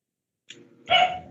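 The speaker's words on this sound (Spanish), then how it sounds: "Porque no se va a entender nada si el perro está ladrando." A dog barks at home during an online chemistry class, starting with a faint yelp and then one loud, close bark.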